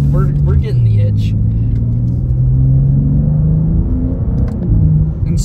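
A 2023 BMW M2 in sport mode drones steadily from inside the cabin while driving, a low sustained engine hum with light rumble and faint voices underneath.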